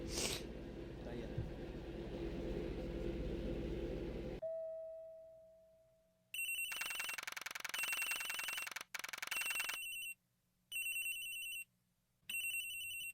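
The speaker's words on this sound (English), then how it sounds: "Somebody's phone is ringing." A phone rings in the Ace Attorney video game, an electronic ringtone sounding in repeated bursts with short silent gaps after a stretch of quieter game ambience, clear and prominent with no talking over it.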